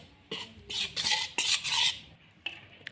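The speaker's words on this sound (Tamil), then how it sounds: "இப்போது ஒரு பாத்திரத்தில் எடுத்து போட்டுட்டு உப்பு கொஞ்சம் போடலாம். போட்டு மிக்ஸ் பண்ணிக்கணும்." A spoon scrapes and stirs rice flour with salt in a vessel while making poorna kozhukattai, in several short, loud bursts of clinking and scraping separated by brief pauses.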